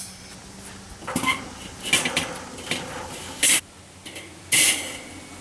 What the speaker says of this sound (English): Now I'm ready for my grate.